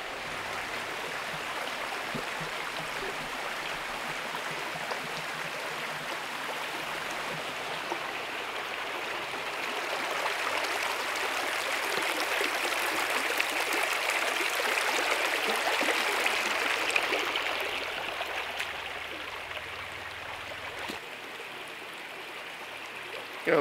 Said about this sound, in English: I'm just gonna show you the creek.